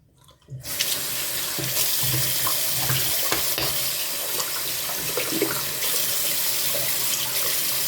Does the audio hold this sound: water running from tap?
yes